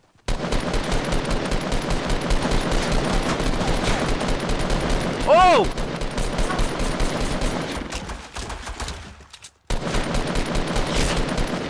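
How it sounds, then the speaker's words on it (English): Rapid, continuous automatic gunfire in Fortnite: Battle Royale, loud and sustained, with a brief exclamation and a short drop-out near the end. "Oh, I hear gunshots."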